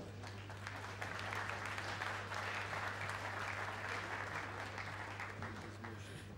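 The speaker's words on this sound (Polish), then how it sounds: "Wielkie brawa." Applause from an audience at an evening business forum, a continuous wash of clapping that swells slightly and holds steady, heard at moderate distance with a low hum underneath.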